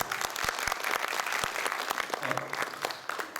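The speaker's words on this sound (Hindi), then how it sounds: "इनके लिए जोरदार तालियां एक बार" An audience at a Hindi poetry evening applauds, a steady, fairly close patter of many hands clapping with some sharper individual claps standing out and a brief murmur of voices.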